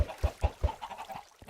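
Chickens on a Minecraft chicken and egg farm give a quick run of short, blocky clucks, four punchy calls close together followed by a few softer ones, heard alone and near.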